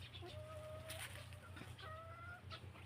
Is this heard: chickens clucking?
yes